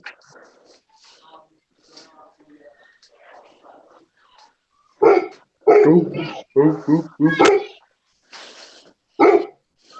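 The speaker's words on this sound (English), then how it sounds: "That is my dog." A pet dog barks in a burst of loud, close yaps and whines after a quiet stretch of soft voices at home, a short command spoken between the barks.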